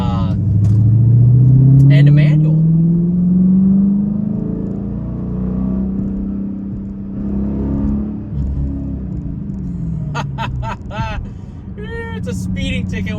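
A Dodge Challenger SRT8 with a big-displacement V8 roars as it accelerates through rising gears, loud and close from inside the car, with someone talking over the engine.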